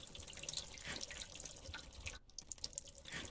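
Steady water running from a tap in the Roblox game Weird Sus Grandma, a continuous close splashing stream with a brief dip in the flow partway through.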